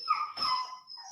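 A dog whimpers in a short, thin, wavering whine, close by and fairly quiet, with no talking over it.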